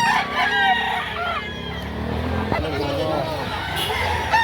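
A Bulik Banderado rooster crows at a busy poultry market in Lipa, Batangas, its call rising over a constant babble of nearby voices and chatter.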